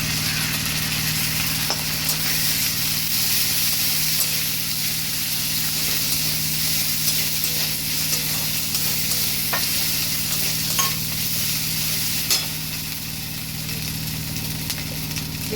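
Ginger-garlic paste hits onions frying in oil for a jackfruit and shrimp curry, sending up a loud, continuous sizzle with occasional stirring clicks throughout.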